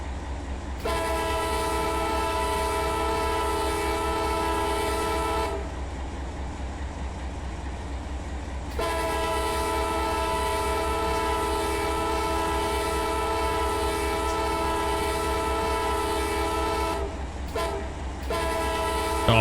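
A locomotive in the Run 8 Train Sim game blasts its horn, two long sustained blasts followed by short quick toots, loud and close over a steady rumbling engine drone.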